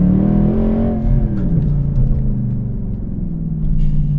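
A Mercedes C63 AMG Black Series V8 engine, a deep, throbbing burble close by, rising and falling gently as the revs shift, with a steady low rumble underneath.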